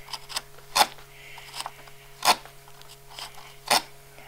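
Hacksaw blade dragged through wood to cut a dovetail kerf, three distinct rasping strokes spaced about a second and a half apart over a quiet steady hum, with fainter scraping between them.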